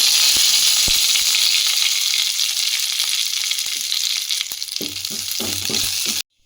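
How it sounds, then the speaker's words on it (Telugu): Curry leaves sizzle loudly in hot oil after browned lentils are removed, a bright, continuous crackling hiss with a few sharp pops and light stirring taps, ending abruptly. "కరివేపాకు వేసుకుందాం"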